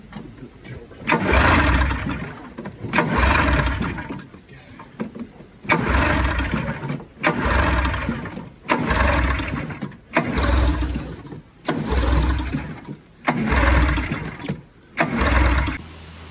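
An Arctic Cat 370Z ATV engine cranks over again and again in about eight separate pulled attempts, each a loud burst of a couple of seconds with short pauses between, fuel and choke on but no clear catch to a steady idle.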